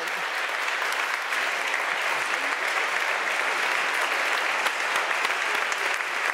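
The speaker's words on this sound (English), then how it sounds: "I think you deserve a big round of applause." Conference audience applause at the closing of the Berlin Energy Transition Dialogue, a loud, dense, continuous ovation of many hands clapping, steady from start to finish with no speech over it.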